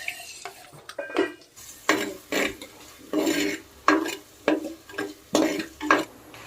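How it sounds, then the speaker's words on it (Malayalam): A pot of hot coconut oil with onion added, heard mostly as rhythmic scraping and clanking of a spoon stirring against the metal, with a faint sizzle beneath the repeated strokes. "എണ്ണ ചൂടായി വന്നിട്ടുണ്ട് നമുക്ക് ഉള്ളി അതിലേക്ക് ഇട്ട് കൊടുക്കാം"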